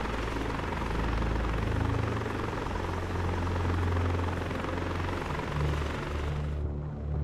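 A helicopter in the video game Arma 3 makes a loud, continuous rotor thump over a deep engine drone that holds steady throughout, then the higher noise cuts off abruptly near the end.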